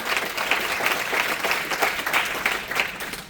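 A church congregation claps loudly during a Spanish-language sermon, a sustained dense round of applause from many people, fairly close and even throughout.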